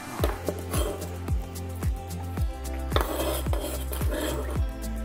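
A utensil knocks against a bowl again and again while fresh ginger is mixed into gingerbread loaf batter, giving a steady series of close, clinking taps with no talk.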